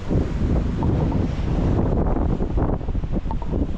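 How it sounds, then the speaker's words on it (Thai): Strong wind roars and buffets the microphone in a steady, loud rush, swelling and easing slightly throughout with no voices. "ลมเริ่มมาอีกรอบแล้ว"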